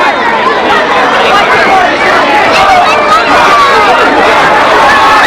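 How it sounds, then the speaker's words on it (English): Large crowd in the full stands at a night high school football game, Frontier versus Caldwell, a dense steady hubbub of many voices chattering and calling out, continuous and fairly loud throughout. "there was a tremendous big crowd here tonight"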